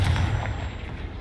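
A Confringo spell blast in Hogwarts Legacy gameplay: one loud, booming fiery impact whose deep rumble fades over about a second.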